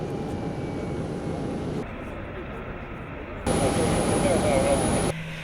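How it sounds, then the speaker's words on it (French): The presidential plane lands on the tarmac at night, heard as a steady, broad jet-engine roar whose loudness shifts abruptly several times. "l'avion présidentiel se pose sur le tarmac"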